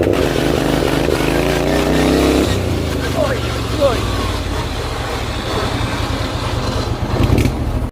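A race mower engine revs hard while driving in second gear, rising to a loud buzzing roar that then drops to a choppy, pulsing idle close by, with a voice speaking over it.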